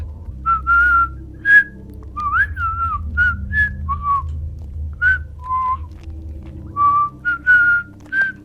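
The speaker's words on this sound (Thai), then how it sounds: "ทำเป็นเดินผิวปาก ชมนกชมไม้" A character walking through a deep forest in the Roblox horror game The Hybrid whistles a casual melody, a series of clear bright notes in short phrases over a low rumbling ambient background, with no talking.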